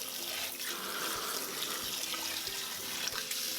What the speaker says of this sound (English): We're going to discard the water and rinse everything.